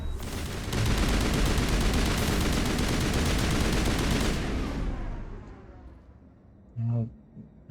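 Sustained loud gunfire from the Mass Effect Legendary Edition video game, dense rapid bursts for about five seconds that thin and fade, followed by a short low rumble near the end.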